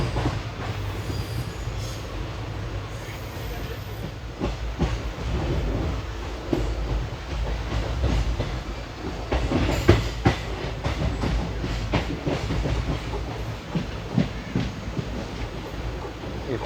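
Indian Railways 16512 Kannur–Bengaluru Express running on a diverted route, a steady low rumble of wheels on rails with rhythmic clicks and occasional squeals, heard from inside the train, continuous and moderately loud throughout.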